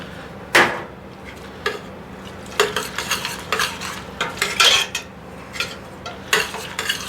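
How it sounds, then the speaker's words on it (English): A spoon clanks and scrapes in a pan while black beans are stirred with salt, pepper and cumin, giving a series of sharp, close metallic knocks at an uneven rhythm over a quiet background. "Stir it together."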